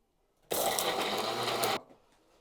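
Kitchen mixer grinds tomatoes, garlic, cumin and pepper in one steady buzzing whir lasting just over a second, starting and stopping abruptly, close and alone.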